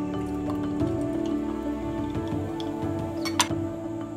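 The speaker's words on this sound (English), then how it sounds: "soda water" Soda water trickles and drips steadily into a jar, with soft fizzing patter and one brighter splash near the end, no voices.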